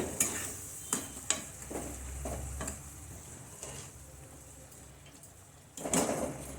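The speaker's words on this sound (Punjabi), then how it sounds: "ਹੁਣ ਅਸੀਂ ਇਹਦੇ ਵਿੱਚ ਆਲੂਆਂ ਨੂੰ ਐਡ ਕਰ ਦਵਾਂਗੇ ਆਲੂ ਪਾ ਕੇ ਮਿਕਸ ਕਰਾਂਗੇ" Potatoes stirred into a sizzling spiced tempering in a pan, with a soft crackling fry underneath and a few sharp scraping knocks of a spoon against the pan, close by and without speech.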